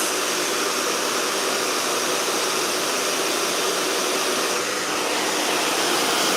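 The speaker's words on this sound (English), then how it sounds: "you have to use blow dryer to point it directly on it" A handheld blow dryer runs steadily at close range, a continuous airy whoosh with a motor hum, used to heat coiled sections of a child's natural hair while styling.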